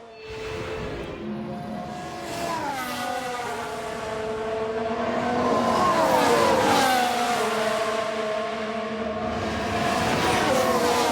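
Simulated Alfa Romeo Formula 1 race car engine in F1 Manager 2022, a loud, sustained high-pitched whine that climbs and shifts through revs over about eleven seconds, with another car's note layered in as they pass.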